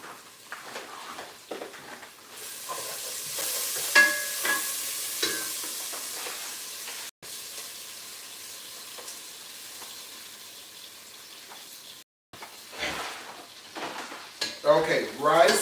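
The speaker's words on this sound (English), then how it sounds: "we'll throw a little bit of rice in with our onion" Rice and onion fry in oil in a pan, with a soft steady sizzle beneath intermittent scrapes and clinks of stirring, brief pan knocks, and louder clattering bursts toward the end.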